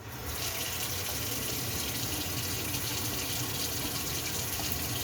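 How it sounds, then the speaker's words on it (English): Water runs steadily from a tap while dreadlocks are rinsed, a constant loud close-up rush that starts abruptly and keeps going without a break, with no voices over it. "we are back to rinse this shit out"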